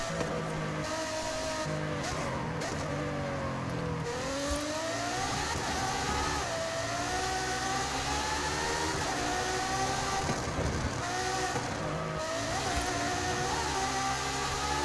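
Ferrari engine in Forza Horizon 5, driven on a custom city street circuit: a continuous high, whining drone that rises and falls in pitch through gear changes and speed shifts, loud and steady throughout without speech.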